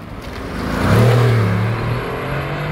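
A Mercedes-AMG GT R sports car with a V8 accelerates at a supercar meet, its engine note rising loudly to a peak around one second, then easing back to a steady drone.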